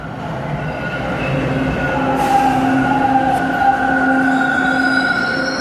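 A Line 2 metro train rolling along, with a steady close rumble and high sustained whining tones from the motors and wheels, loud and continuous with no talking.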